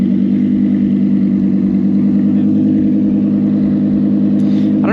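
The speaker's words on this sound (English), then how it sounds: "Oh no, it's a Lambo. Beautiful car, man. Sounds so nice, so aggressive." A Lamborghini engine at a car meet holds a loud, steady, rich drone close by, with no clear rev spikes, and no talking over it.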